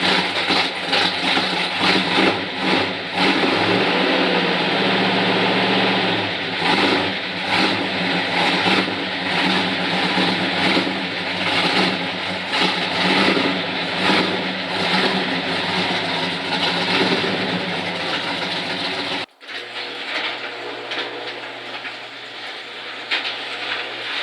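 A 1972 Chevrolet Chevelle Malibu engine runs steadily with a loud, even rumble as the car is moved, holding constant for about nineteen seconds before cutting to a quieter, lower idle.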